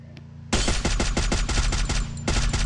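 Rapid automatic gunfire from a shooter video game erupts after a short quiet start, with loud, dense bursts of shots continuing without a break to the end.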